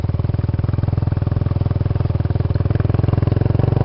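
A small motorbike engine idles and runs close by with a steady, fast, throbbing putter, loud and continuous with no voices over it.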